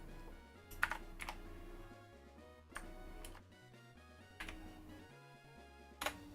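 Keys clacking on a Mac computer keyboard in a few sparse bursts, fairly faint, under steady background music with no talking.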